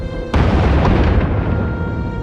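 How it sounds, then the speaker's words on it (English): Bombing explosions in the Star Wars: The Old Republic game, a sudden loud booming blast that rolls into a sustained rumble and fades slightly over two seconds. "Sounds like the bombing's getting closer."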